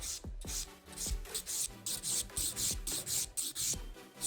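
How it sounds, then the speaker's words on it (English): Nail file rasping across an acrylic gel nail in quick short strokes, a soft close scratchy rhythm of repeated back-and-forth passes with brief pauses between them. "Just bevel down, get it nice and smooth. So easy to file."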